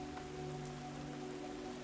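Steady rain falling, a soft continuous hiss of drops on surfaces with a faint low hum underneath, quiet and unbroken.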